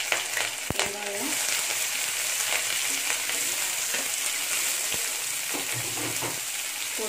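Mustard seeds, curry leaves, green chili and onion frying in hot oil in a pan for an egg roast, a steady close sizzle with occasional stirring scrapes and light knocks.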